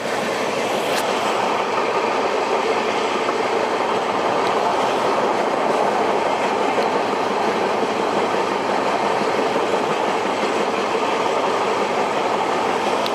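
Express train hauled by a WAP7 electric locomotive gathering speed on the line toward Gudur and Renigunta, a continuous dense rumble of wheels and rail noise with faint clickety-clack, heard steadily from inside the moving train.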